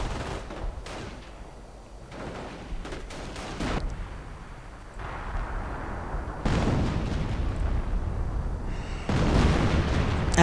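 A real-time strategy video game battle with a sustained artillery barrage: repeated booms and crackling volleys roll in waves, growing louder toward the end, with no voices.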